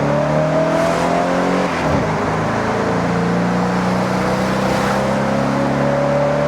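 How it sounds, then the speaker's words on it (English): A Ford Crown Victoria's V8 engine in the Forza Horizon 6 racing game, a continuous, quiet-sounding drone and hum with slight shifts in pitch, heard alone without talk. "Now this is the Ford Crown Victoria, and in Forza Horizon 6, it doesn't really sound of anything."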